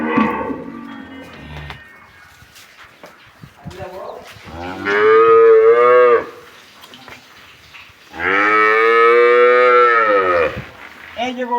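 A Red Friesian dairy cow lets out two long, loud, close moos separated by quieter gaps filled with faint farmyard noises.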